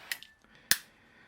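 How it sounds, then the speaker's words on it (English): A cheap lighter, used outdoors on a mild November evening before fireworks, gives two sharp, close clicks of its flint wheel about half a second apart, with no other sound. "all you hear is the clicking of someone trying to get their lighter to work"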